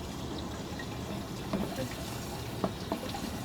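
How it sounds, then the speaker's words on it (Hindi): Water falls back into a home hydroponics reservoir driven by a pump, giving a continuous close trickle and splash with a few brighter drips rising above the steady flow. "ये देखें, ये पानी वापस गिर रहा है"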